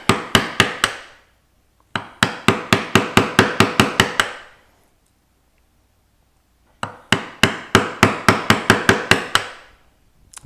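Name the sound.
hand-tool chisel carving, beveling wood for gothic tracery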